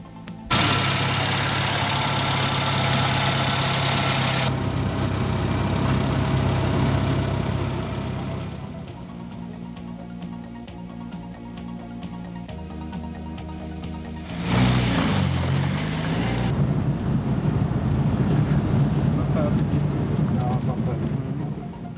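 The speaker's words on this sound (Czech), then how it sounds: "Motor má zcela normální zvuk, chod je pravidelný a teplota vody je úplně normální." A car engine run without oil after treatment with Prolong additive idles steadily with a regular, even hum through the whole stretch, loudness shifting partway, while someone narrates over it.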